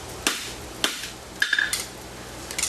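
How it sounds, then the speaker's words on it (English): Hammer half blows strike across the face of an anvil while forging a roadster wedge, several sharp metallic clinks spaced unevenly over a few seconds, moderately loud and alone. "I'm going to do a half blow over the face of the anvil"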